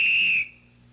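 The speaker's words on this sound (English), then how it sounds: "Oh, I hurt my ear with the whistle." A whistle blown loudly and close at a Christmas party, one shrill sustained tone lasting under half a second before cutting off to near silence.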